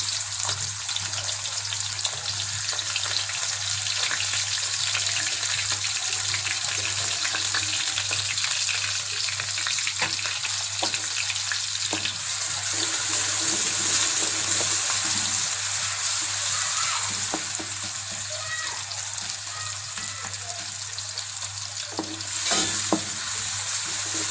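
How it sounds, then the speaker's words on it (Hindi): Loud, steady sizzling and crackling of onions frying in hot oil, with occasional stirring clinks; no speech. "जी तो यहाँ तेल गर्म हो चुका है। अब हम इसमें प्याज डालते हैं।"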